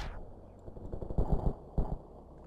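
Gunfire in the video game Ravenfield: muffled bursts of low, thumping shots, a cluster near the middle and another shortly after, moderately loud over a rumbling background.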